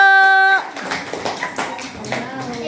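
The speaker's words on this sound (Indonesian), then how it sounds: "Beri tepuk tangan untuk kelompok 1" A classroom of students claps for a presenting group, a short scatter of uneven hand claps following a sustained tone, with children's voices mixed in.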